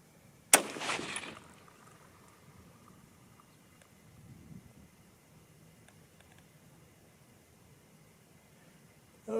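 A single loud, close 30-06 Springfield rifle shot fired with a handloaded round cracks sharply near the start and rolls off into a fading echo, followed by quiet outdoor wind noise and the onset of another sharp sound at the very end.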